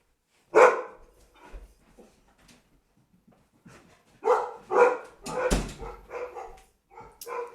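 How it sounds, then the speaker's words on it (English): Several dogs bark in irregular bursts, a loud bark early, then a busy cluster of overlapping barks and yips toward the end, fairly close. "this is dogs barking."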